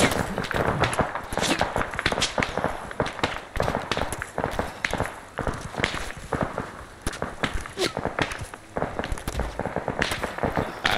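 Gunfire in the military shooter game Arma 3, with repeated sharp shots and bursts scattered throughout, mixed with footsteps and frequent talk between players over the top.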